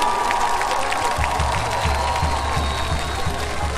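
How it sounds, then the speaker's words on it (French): Crowd applause and cheering at an outdoor presidential campaign launch rally in Libreville, a dense, steady roar of clapping with rhythmic low drumbeats pulsing underneath throughout. "Aya Ali, je voudrais qu'on applaudisse très fort pour lui, s'il vous plaît."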